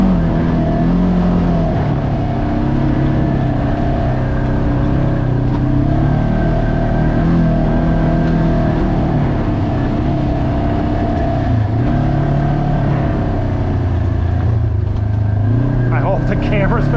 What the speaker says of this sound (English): Hear that clutch noise starting. Hear that little rumble.